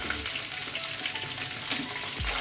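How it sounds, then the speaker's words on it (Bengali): Cut eggplant pieces fry in oil seasoned with salt and turmeric, giving a steady close crackle and hiss throughout, with a soft clatter near the end. "যে কেটে রাখা বেগুনগুলো রেখেছিলাম সেগুলো আমি ভেজে নেব এই তেলটার মধ্যেই"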